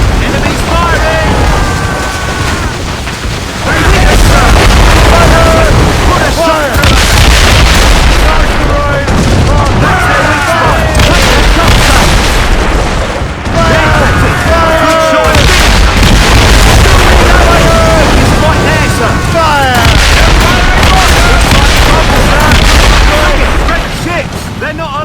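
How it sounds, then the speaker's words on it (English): Enemy warships firing cannons in the naval combat of Assassin's Creed Rogue. Repeated deep, loud booms roll in over gusting wind and sea noise, arriving in several clustered bursts, with shouted crew voices mixed in. "Fire! Enemies firing!"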